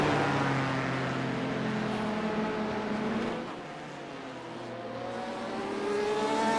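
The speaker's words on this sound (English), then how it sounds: "You know, I'll never get tired of is hearing that supercharger whine." A race car engine with a supercharger roars steadily with a rising, high-pitched supercharger whine layered over the drone, dipping briefly before climbing again, at the Daytona 24-hour race.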